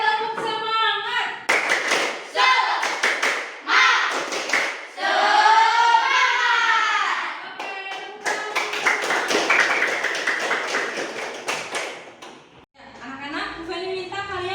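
A class of children performs a rhythmic spirit clap led by their teacher, bursts of sharp group claps in quick patterned sequences mixed with chanting voices, loud and close in a classroom.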